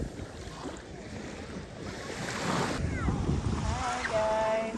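Ocean waves washing in at high tide on a busy public beach in Dubai, a steady surf wash blown by wind noise that swells louder toward the end, with faint background voices.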